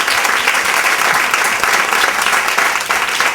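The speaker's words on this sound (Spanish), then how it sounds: "Y para aquí, don Fernando Díaz Pividal, lo que pide es un aplauso" Studio audience applause at a live radio broadcast for a guest, a continuous loud wash of many hands clapping, close and even, with no talk over it.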